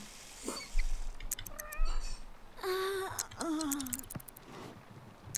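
A cat in the video game The Sims 3 meows several times in short, rising and falling calls at moderate loudness, with a few soft clicks and light background sounds between them.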